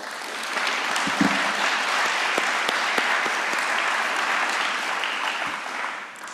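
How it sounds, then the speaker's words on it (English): Steady, dense applause from a large audience welcoming new board members at an evening conference session, sustained throughout and tapering slightly at the end. "please, a round of applause for our new board members, Deborah Schwinn and Rita Wang"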